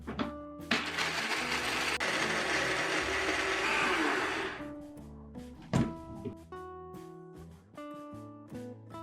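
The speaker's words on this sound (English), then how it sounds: "Add 1/3 cup of cashews to the same blender and grind them into a fine powder." A blender whirs loudly for about four seconds as it grinds cashews into a fine powder, then cuts off, leaving soft melodic background music with a few thumps.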